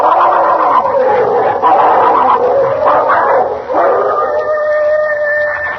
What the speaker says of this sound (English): Oh, it's them dogs. They're fighting again.